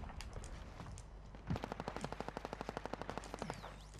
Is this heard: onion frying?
no